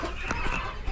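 Hens in a coop cluck softly while pecking at a new organic feed mixed with powdered eggs, with a steady murmur of several birds close by.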